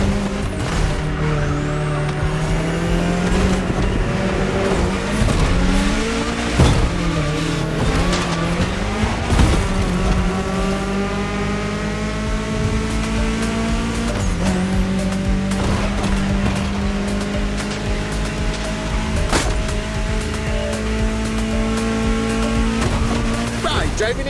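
A car in The Crew Motorfest racing game drives through a state capital with a loud, continuous engine whose pitch climbs and drops through gear shifts, punctuated by tire squeals and passing traffic, with a voice talking over it.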